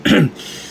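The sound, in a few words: throat clearing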